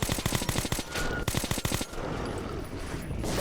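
Rapid automatic gunfire in the video game Metro 2033 Redux rattles in quick bursts for about two seconds, then gives way to a sustained noisy blast and lingering rumble.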